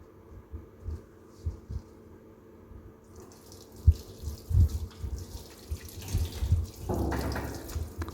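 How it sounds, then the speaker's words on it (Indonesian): Running tap water pours over hands being washed at a sink after a prenatal abdominal examination, a soft steady stream with scattered splashes that swells louder near the end. "Cuci tangan kembali setelah melakukan pemeriksaan dengan sabun dan juga dengan air"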